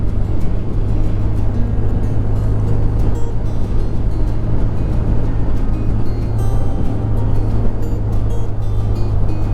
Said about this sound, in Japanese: RS も楽しげに走ってるような音が聞こえてます